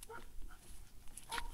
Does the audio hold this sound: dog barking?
yes